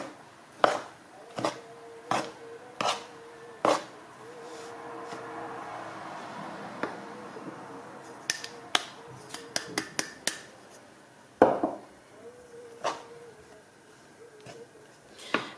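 Ingredients being mixed in a bowl for a homemade lactation preparation with fennel: sharp, irregular clicks and taps of a utensil against the bowl, some in quick clusters, over a quiet room background.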